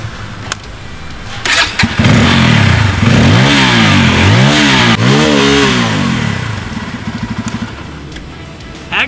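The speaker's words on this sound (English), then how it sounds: "Now talking about the exhaust of the 250s, I must say they are really loud and smooth." A Bajaj Pulsar 250 motorcycle starts up, then its exhaust is revved several times in loud rising and falling swells before settling back toward a throbbing idle, heard up close.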